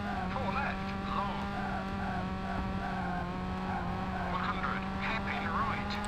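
A 1.6-litre rally car on a French stage in V-Rally 3 on Xbox: a steady, droning engine with tyre squeal and skidding layered over it, running continuously throughout.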